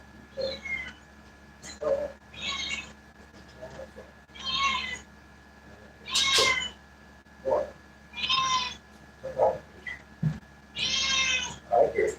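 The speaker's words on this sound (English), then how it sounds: "I hear my cat calling me." House cat meowing repeatedly at home, a series of loud close calls spaced a second or two apart, some drawn out like a caterwaul, with no talk over them.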